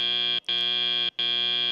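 A loud, steady electronic match buzzer at an FTC robotics tournament sounds in three long blasts separated by brief gaps, alone with no talk over it.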